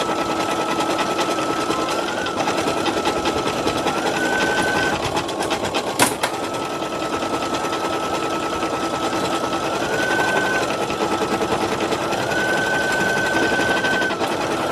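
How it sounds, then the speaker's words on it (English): Embroidery machine stitching an in-the-hoop design, a fast continuous mechanical chatter with a faint whine that shifts pitch now and then and one sharp click partway through, steady and fairly close. "It's going to be like watching thread in the machines."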